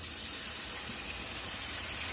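Water splashes into a hot frying pan of oil with boiled potatoes and beans, producing a loud, steady hissing sizzle and steam throughout.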